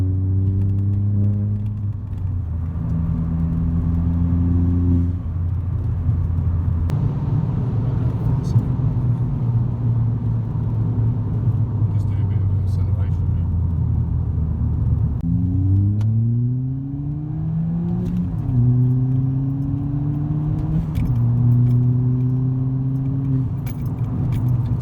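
A modified Ford Fiesta ST with Mountune upgrades, over 220 brake horsepower, accelerates hard. The loud, close engine note climbs steadily through each gear, with a brief dip at every shift, and a voice can be heard over it.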